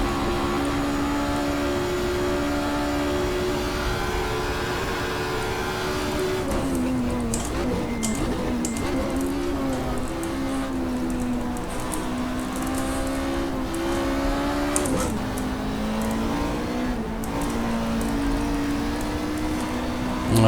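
Steady race car engine drone in the GTR2 Power and Glory mod racing game, a sustained tonal whine that shifts pitch with throttle and gear changes, lifting and dropping several times.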